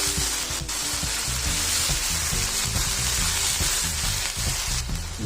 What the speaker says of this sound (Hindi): और कीमे को अच्छे से इसमें भून लेंगे हम तेज़ हाई फ्लेम पे 2 से 3 मिनट